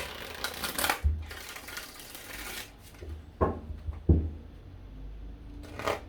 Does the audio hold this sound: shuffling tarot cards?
yes